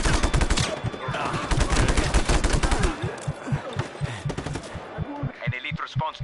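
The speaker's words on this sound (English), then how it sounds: "Stop that machine gun for a start." A machine gun in the open-world action game Just Cause 3 fires in a loud, rapid sustained stream, heavy bursts packed together and mixed with other battle noise.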